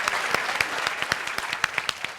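Audience applause rising for the cast at the close of a Taiwanese variety comedy show episode, a steady dense patter of many hands clapping with scattered sharper claps, filling the whole stretch without voices.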